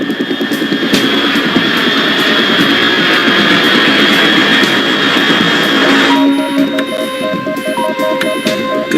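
Aircraft in the video game Metal Gear Solid 3 roaring overhead as a loud, steady jet drone, joined partway through by electronic beeping tones.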